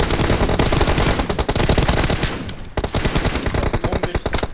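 Rapid automatic gunfire from an online first-person shooter match, loud and nearly continuous bursts with a brief pause midway before firing resumes.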